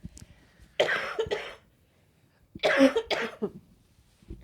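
A person coughing close by in two rough clusters of several harsh coughs each, separated by a brief quiet gap.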